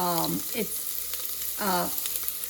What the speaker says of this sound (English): So we're going to lightly saute this for a few minutes.